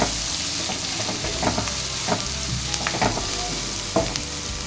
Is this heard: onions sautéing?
yes